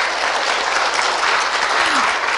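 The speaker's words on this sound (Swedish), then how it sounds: "Så, en applåd." An audience at an author event at a Finland institute in Stockholm claps steadily and densely, a full, even round of applause holding from start to finish.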